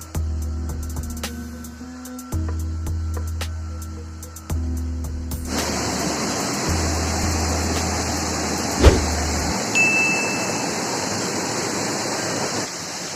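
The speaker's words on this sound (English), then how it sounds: "So this is the beautiful Udayar Spring Waterfall." Udayar Spring waterfall at Verna in South Goa during the monsoon, a steady loud broadband rush of falling water rising from about five seconds in, preceded by quieter low rumbling.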